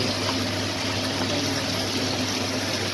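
Water pours into a cooking pot of chicken sinigang, a steady, close rushing hiss that holds constant throughout with no talking.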